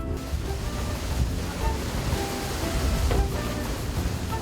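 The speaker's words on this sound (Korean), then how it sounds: "한결 잔잔한 파도" Continuous rushing of calm sea water in Crystal Bay off Penida island, Indonesia, with a low, steady roar, gentle rolling surges and some wind noise, no voices.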